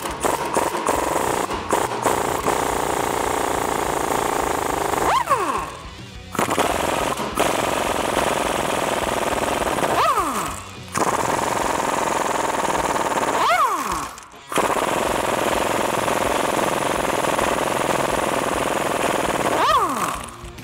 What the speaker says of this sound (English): take a 15mm swivel socket and remove the 4 bolts that are holding on our drive shaft